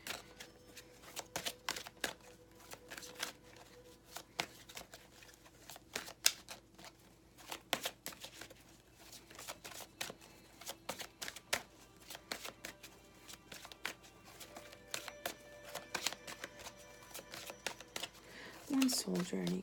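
Tarot cards are shuffled in rapid riffling bursts with sharp card slaps and snaps, close and clear, while a voice talks quietly at times.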